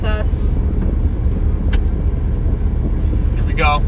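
A pickup truck drives along with clothes loaded in its bed, giving a steady low engine and road rumble throughout, with brief voices speaking over it.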